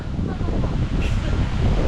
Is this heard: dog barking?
no